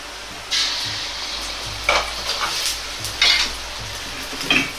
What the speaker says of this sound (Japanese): 大さじ1の油を鍋に入れ卵を流し込みます。